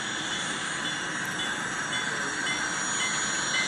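N-scale model trains rolling along a club layout: a steady, close metallic rumble of small wheels on track with a faint squeal riding on top, continuous throughout, with no talking.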